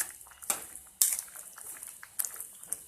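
Spoon scraping and clinking against a pan while masala spices are mixed into citron pickle, a few sharp metallic knocks and scrapes at irregular intervals over quiet background.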